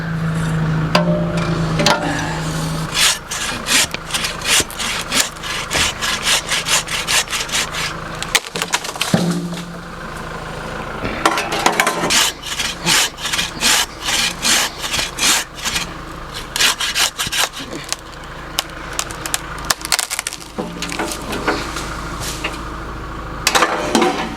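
A hand saw cuts through the crotch of a tree branch while an archery range is cleared, its rasping strokes loud and close in a steady back-and-forth rhythm, broken by short pauses.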